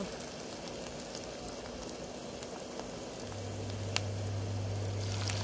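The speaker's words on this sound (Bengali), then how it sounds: "এখন ছোট ছোট করে তেলের মধ্যে ছাড়ব" Small spoonfuls of egg-rich batter fried in plenty of hot oil give a steady, close sizzle and crackle that runs evenly throughout and grows slightly louder toward the end, with no talking.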